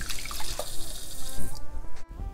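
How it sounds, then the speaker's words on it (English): Rice being rinsed in water in a home kitchen, with close splashing, swishing and running-water sounds for about a second and a half, then quieter drips and small clatters. "Wash the rice a few times to take out the impurities and dust and everything."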